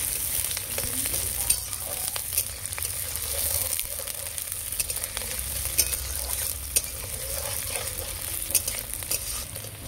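Onions fry in a pan with a steady, close sizzle, broken by occasional light clinks and scrapes from stirring.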